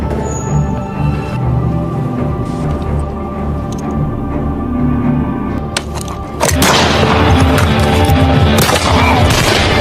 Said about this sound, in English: Leo also helped Ray, and a shootout was inevitable.